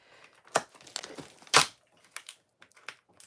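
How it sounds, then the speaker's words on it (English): Scissors cutting open a heavily taped shipping box: scattered crinkly rips and crunches of tape and cardboard, with one louder tearing burst in the middle, close and without talk. "I just use scissors to open up the boxes."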